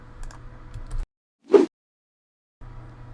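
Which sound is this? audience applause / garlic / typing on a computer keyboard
typing on a computer keyboard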